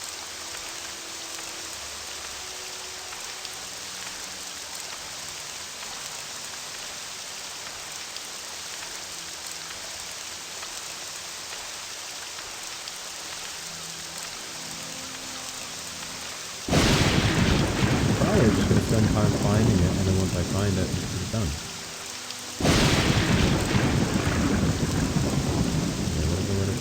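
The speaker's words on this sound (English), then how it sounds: "I really need the thunderstorm to go away." In the video game Abecean Shores, a thunderstorm sends rain pouring down steadily, and heavy rumbling surges of thunder break in twice, loud and near. Someone talks over the storm.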